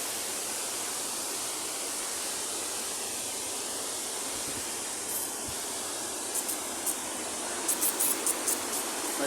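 Ramboda waterfall in Sri Lanka roaring steadily, a dense unbroken rush of falling water heard alone, with faint light clicks near the end.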